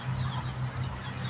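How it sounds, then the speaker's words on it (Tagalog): A single backyard chicken let out of its coop clucks softly and steadily in the afternoon after light rain, a low, continuous murmuring call close by with no talk. "Pinalabas ko yung isa kong manok."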